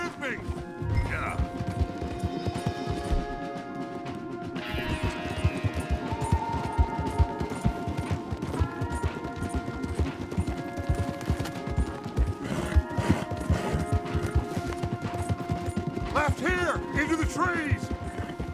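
Horses galloping hard in Red Dead Redemption 2, a dense rapid drumming of hooves that runs continuously, mixed with game music and shouted dialogue from the riders over the top.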